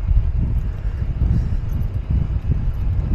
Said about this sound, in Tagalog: Medyo malakas nga lang yung hangin, ha.